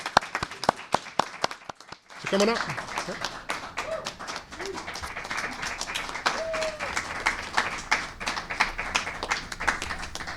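An audience at a TMA celebration bursts into applause, steady, dense clapping that follows a few isolated taps and continues under a speaker's voice.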